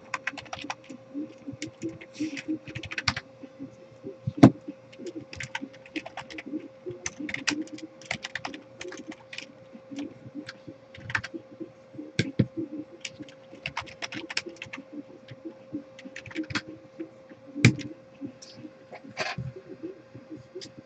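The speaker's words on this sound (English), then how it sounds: "give me 1 second to do a little bit of typing." Keys clatter on a computer keyboard in quick irregular bursts and single taps, close and fairly quiet, during a break from opening a box of 2014-15 Flawless basketball cards.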